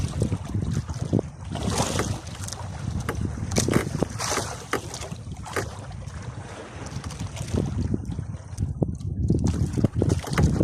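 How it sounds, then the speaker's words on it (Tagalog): Strong wind buffets and roars across the microphone nonstop, with water sloshing faintly beneath the gusts. "Grabe lakas ng hangin"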